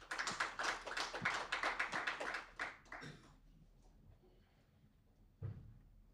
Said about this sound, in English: Let us give him an applause